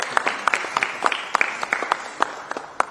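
An audience at a Philadelphia public school funding event applauds state legislators, with many hands clapping in a brisk, continuous patter close by.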